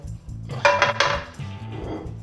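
A cooking pan is set down on a stove before pork ribs are pan-fried, giving a close clattering metallic knock with a short ringing clink over low background hum.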